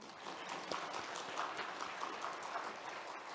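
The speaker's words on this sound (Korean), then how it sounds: "박수 한번 해요" A church congregation applauds its choir during a Sunday service, a steady, fairly faint patter of many hands clapping throughout.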